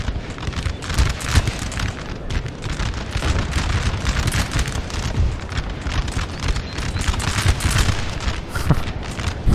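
Musket volleys crackle across a Napoleonic Total War III battlefield, a dense, continuous roar of massed gunfire with scattered sharper reports, loud and sustained with no voices.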